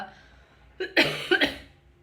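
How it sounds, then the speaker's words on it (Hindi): A short burst of coughing: two or three quick, close, harsh coughs, fairly loud, after a moment of near silence. "खांसी"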